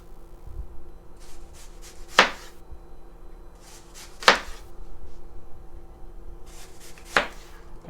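A knife slicing onions thin on a cutting board for a burger, three sharp chopping strokes spaced a couple of seconds apart, close and clear, with no talk.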